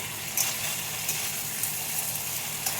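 Fried potatoes sizzle in a pan with cooked-down spice paste for an egg curry, a steady hiss of frying with a few soft stirring bumps, close and even.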